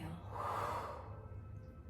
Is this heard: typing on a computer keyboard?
no